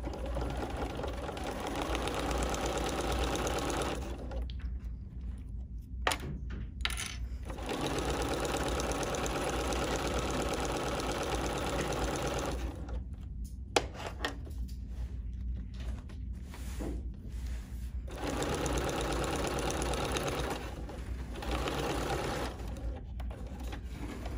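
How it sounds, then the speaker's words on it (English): A BERNINA sewing machine stitching vinyl, a steady mechanical whirring run broken by a few short pauses with faint clicks and handling, then further stretches of continuous stitching. "And now I'm going to continue sewing."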